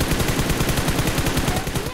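Rapid automatic gunfire in a shooter video game, a dense, steady stream of shots fired continuously for about two seconds, loud and close with no talking.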